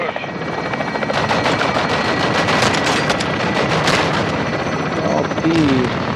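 Call of Duty Modern Warfare 2 battle with loud rapid gunfire and heavy explosive fire-mission blasts over a constant helicopter-like roar, dense and close throughout, with radio voices talking over it.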